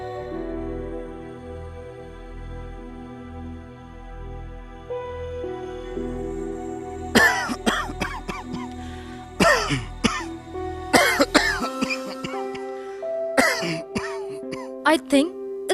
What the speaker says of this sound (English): the cough is getting worse